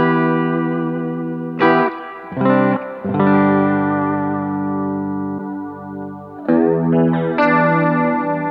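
Electric guitar on a clean tone through a Line 6 HX Effects unit, with sustained chords and single ringing notes that have a shimmering, slightly wavering modulated character, played close and alone.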